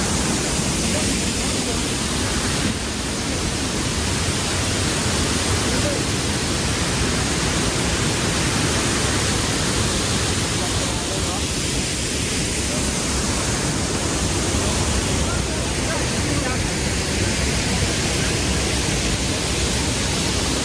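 Krangsuri waterfall in West Jaintia Hills pours with a constant, loud, broadband roar of rushing water, unbroken and close throughout.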